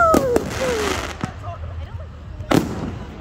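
Fireworks at a Loch Sport display go off in several sharp, booming bursts, with whistling trails and crackles between them. Excited voices react in the background.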